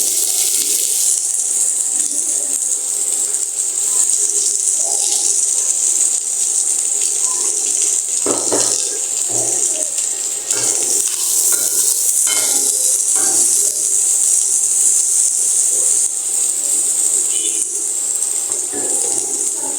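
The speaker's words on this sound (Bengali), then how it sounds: "তারপরে তেলটা আমার গরম হয়ে গেছে, এখন আমি পেঁয়াজটা দিয়ে দেবো।" Chopped onions hit hot oil in a pan and sizzle steadily, a bright continuous hiss with occasional crackles and stirring clinks, lasting throughout without talk.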